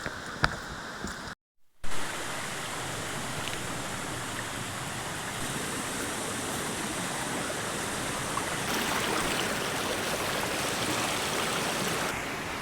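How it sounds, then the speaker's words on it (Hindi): Water from a waterfall pours down a stream near a remote village in Karbi Anglong, Assam, a constant hissing rush that fills the whole clip after a brief cut near the start, with no voices. "इस साइड पे जो झरना है उससे पानी आ रही है"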